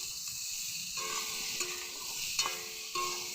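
Elephant foot yam stirred in a pan with salt and turmeric, a steady sizzle under intermittent scraping strokes of a spoon against the pan, close and alone.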